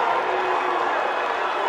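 A crowd at a college basketball game between Northwest Missouri State and Washburn reacts to a foul call with a dense, steady roar of voices and scattered shouts, no single call standing out.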